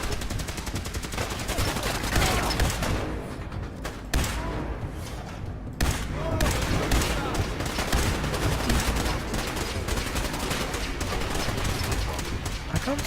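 Rapid gunfire from the video game Fallout 4, dense bursts of shots and automatic fire running almost without pause, loud and close, with a brief lull near the middle before the shooting resumes.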